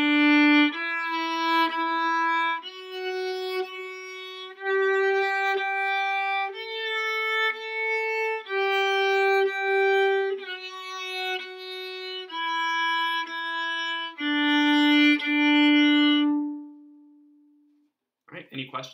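A bowed string instrument plays a slow sequence of sustained notes, two per pitch, shifting into third position; each tone rings clearly alone for about 17 seconds, with no talking.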